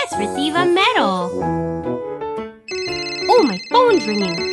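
A cartoon phone ringtone plays a bright, jingling electronic melody in repeated phrases, mixed with chirpy cartoon voices and sound effects.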